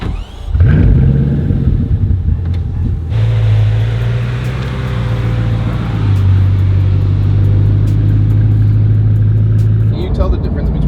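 A sports car engine rumbles loudly and steadily throughout, its low drone shifting pitch a few times as though revving, with a brief lull near the end.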